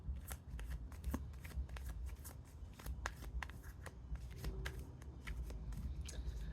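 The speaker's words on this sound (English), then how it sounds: "great at pulling these cards." Tarot cards shuffled and pulled outdoors in light wind, giving a steady stream of soft riffling flicks and snaps with a few sharper card slaps, close and fairly quiet over a low rumbling background.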